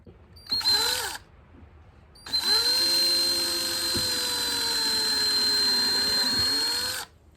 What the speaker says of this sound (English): We're drilling in at an angle